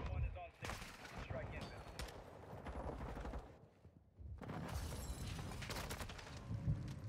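Grenade and stun grenade blasts in Call of Duty: Modern Warfare II ranked Control play, heard as bursts of explosive noise and gunfire-like crackle with a short lull between, mixed into game audio.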